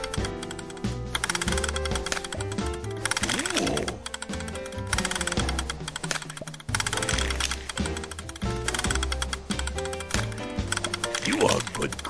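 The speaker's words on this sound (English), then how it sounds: "click to turn the crank." A crank turns in a Sesame Street cooking video game, making a busy mechanical clattering with rapid repeated clicks and a steady rhythm. Game music plays underneath and a voice speaks over it.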